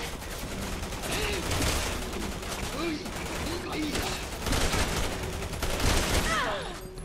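Gunfire in the video game Resident Evil 6 crackles in dense, continuous bursts alongside game effects and music, steady and loud throughout, with no speech.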